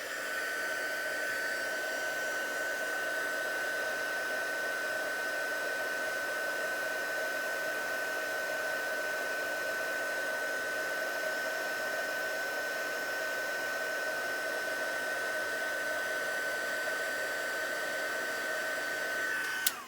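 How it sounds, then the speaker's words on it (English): A Stampin' Up heat gun used for heat embossing blows with a steady, loud, unbroken whoosh and a thin whine for about twenty seconds, with no speech over it. "heat gun, which is my new Stampin' Up heat gun, which is great, but it is a bit noisy, so excuse me while I heat emboss."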